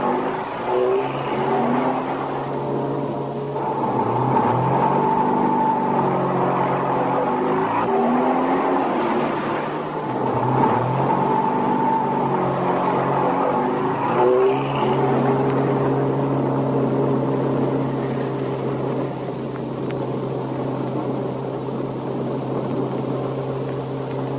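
A diesel truck drives and accelerates, its engine note climbing and dropping through several gear changes as a loud, continuous drone.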